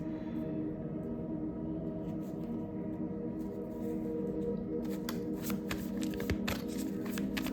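Tarot cards are shuffled steadily and close by, a continuous papery riffle that grows crisper in the second half with sharp slaps and snaps of the deck. No one speaks.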